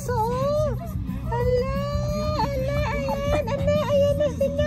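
A dog waiting at a dog run in Showa Kinen Park, Tachikawa, Japan, whimpers and cries impatiently in high, wavering whines. The calls repeat close by over a low murmur of background voices and outdoor noise.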